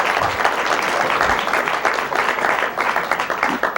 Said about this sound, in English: And the applause was led by my pastor, Dr. Johnny Coleman.